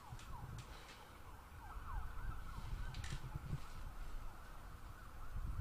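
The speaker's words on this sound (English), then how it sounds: "With a siren in the distance." A siren wails faintly in the distance, its rising and falling pitch heard over a low rumbling background with passing traffic noise, outside a cricket ground.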